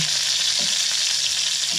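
Steady, loud sizzling of longganisa sausage frying in a hot pan, a constant crackly hiss with small pops, no talking.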